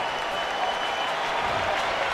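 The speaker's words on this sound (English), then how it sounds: "Bill Murray conjuring up a little enthusiasm, as is this sold-out crowd." Sold-out baseball stadium crowd roaring and cheering late in a close game, a dense, steady wall of noise with no pauses.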